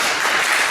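Audience applause for the day's speakers at an event, a dense, steady burst of clapping that fills the brief moment without any voices.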